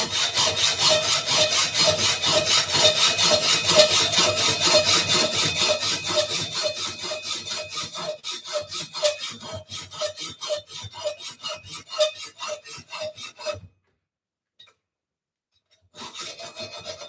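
A hacksaw rasps back and forth in steady strokes while working on a 1976 Schwinn Speedster bicycle, loud and close, slowing toward the end before a brief silence and a final few strokes.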